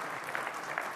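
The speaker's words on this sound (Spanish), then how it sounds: "Gracias por los aplausos." Brief burst of audience applause at the Fórum Europa event, dense steady clapping with a couple of sharper peaks, fairly near and continuous for about a second.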